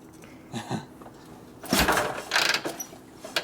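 Someone kicks the starter of a rusty 1952 Harley-Davidson Panhead 74ci after a top-end rebuild, producing a short burst of close mechanical clunking and ratcheting from the kick mechanism, with no engine catching.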